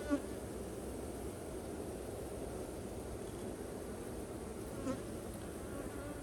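Honey bees drone steadily around an opened hive, a dense, even buzz filling the whole stretch with no talk, a few louder bees passing close now and then.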